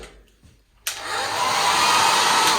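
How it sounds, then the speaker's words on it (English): Hair dryer mounted on the wall of a Lucerne hotel bathroom, which starts abruptly after a brief quiet moment and then runs as a loud, steady, close-up whooshing roar. "You probably noticed it from the reflection, but the hairdryer is attached to the wall."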